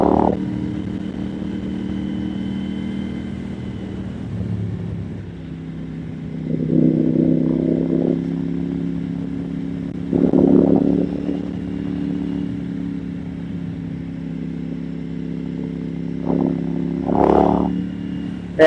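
KTM Duke 890R motorcycle climbing a hill in fourth gear around 4,000 rpm, its steady engine drone swelling in several throttle surges over wind rush, close and loud with no talking.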